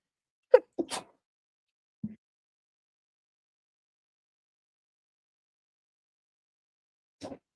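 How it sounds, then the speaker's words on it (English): A single sharp sneeze bursts out near the start, followed by a brief sniff and a short exhale later, with silence in between. "I had to sneeze."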